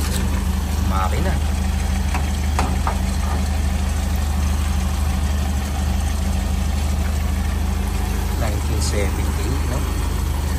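A vehicle engine idles steadily and loudly up close, a constant low rumble throughout, with people talking nearby over it.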